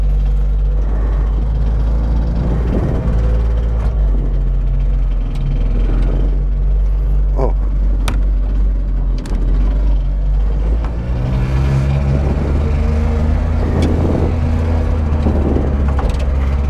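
A Piaggio Ape 50 moped vehicle pulls away in first gear with a loud, continuous close-up engine drone and rattle, with the pitch rising and falling as it drives off.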